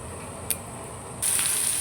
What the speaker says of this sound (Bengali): এখানে এখন পেঁয়াজের বেরেস্তাটা ভেজে নেব।